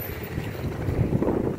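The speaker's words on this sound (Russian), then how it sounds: "Ветер все равно сейчас." Gusty wind in Saint Petersburg's Moskovsky district buffets the microphone with low rumbling bursts that swell and fade irregularly.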